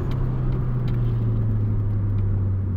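A Mitsubishi Eclipse engine with a misfire runs loud and steady, a continuous low rumble and drone with a faint uneven texture and no clear rise in revs.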